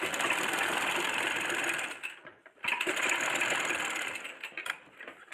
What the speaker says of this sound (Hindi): इसमें सिलाई लगाकर इसे जॉइंट करना है।